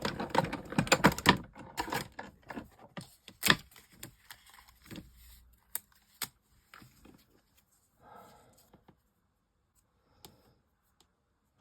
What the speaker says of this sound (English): Let me just cut a piece of this.